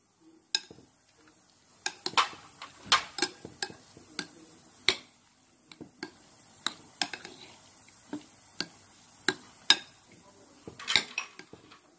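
A spoon stirs ground corn and tomato into a mixture in a bowl, making sparse, sharp clinks and taps against the dish, close by and fairly quiet.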